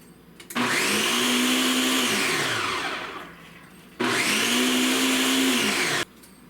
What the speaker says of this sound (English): I think I ran this through the blender for about 4, maybe 5 minutes